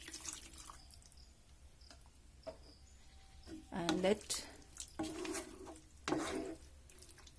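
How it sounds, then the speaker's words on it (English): Water pours into a pan of eggplant masala on the stove, a few splashing, dripping bursts near and fairly loud, with a person talking briefly. "After that, just add a little water"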